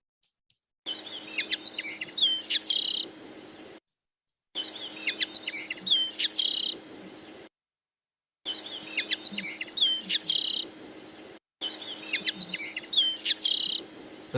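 Farmland bird songs and calls play back in four separate bursts, each a clear run of high, bright chirps and whistled notes, with short silent gaps between them.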